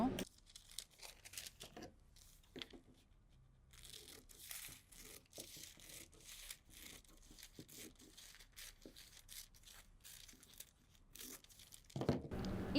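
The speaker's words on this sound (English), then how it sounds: "Next, I need to cut the second line." Scissors cut along a paper dress pattern in short bursts of crisp snipping and rustling paper, close and fairly quiet, with brief pauses between cuts.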